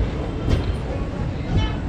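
A passenger train rolls along the track near Pilibhit, giving a steady low rumble with a brief brighter rattle, heard from on board.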